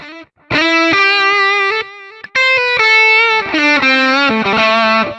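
Electric guitar through a Harley Benton DNAfx GiT multi-effect processor plays melodic notes with a clear 400 ms delay effect, each phrase echoing and trailing off, loud and upfront with brief gaps between passages.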